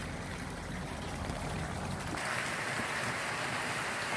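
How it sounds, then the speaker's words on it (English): Steady rain falls on a farm, a soft continuous hiss of drops on surfaces that grows slightly fuller partway through, with no voices. "The rain's coming again now"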